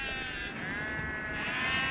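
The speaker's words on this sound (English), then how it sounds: "come to help local sheep farmer Andrew Barr bring the ewes off the hill into the lambing barns." Sheep bleat in a sustained, wavering chorus as ewes are herded down off a hill toward lambing barns, the calls overlapping and fairly close, with no talk over them.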